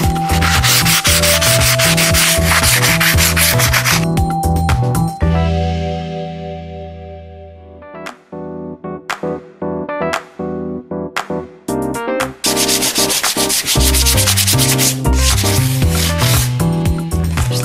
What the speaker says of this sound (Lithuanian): Mes naudojame visiškai seną rėmą, jį šiek tiek apšlifuojame, kad atrodytų atnaujintas